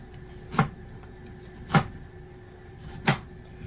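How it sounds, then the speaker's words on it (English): A knife cuts squash into long strips on a cutting board, giving three separate chopping thuds about a second apart, close up over a faint background hum. "cut this into the moon sizes and long strips"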